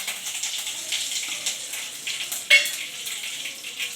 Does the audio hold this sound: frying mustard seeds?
yes